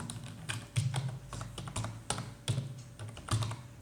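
Rapid close clicking on a computer keyboard while Python code is typed, with bursts of keystrokes and brief pauses and no one talking.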